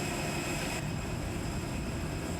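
Steady, even roar of an Airbus airliner's engines in a flight simulator game, a continuous broadband drone with no talk and no change in level.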